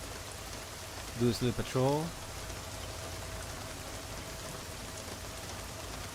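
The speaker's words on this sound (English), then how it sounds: "Ah, goddamn, that's loud sound. Loud rain." Heavy rain hisses steadily throughout a Deus Ex: Mankind Divided game scene, loud and constant, with a brief burst of electronic chirps partway through and a voice speaking briefly over it.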